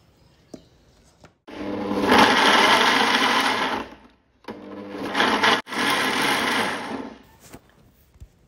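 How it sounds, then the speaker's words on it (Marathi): A mixer grinder whirs loudly through two long bursts as it blends cut guavas with two glasses of water into a purée. A short pause separates the runs, with quiet clicks before and after. "मिक्सरच्या भांड्यामध्ये आपण 2 ग्लास पाणी घातले आणि ह्या पेरूंची आपण प्युरी तयार करून घेणार आहोत"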